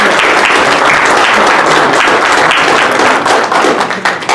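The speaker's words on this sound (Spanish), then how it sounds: "Recibamos con un fuerte aplauso a los" Sustained audience applause greets panelists at an AI education conference session, dense and steady clapping from a full room at close range, holding loud throughout before easing slightly at the very end.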